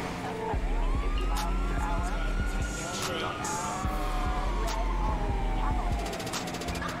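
Police sirens wail in a GTA 5 video game chase, a sweeping tone rising and falling under engine rumble and game sounds, with someone talking over it.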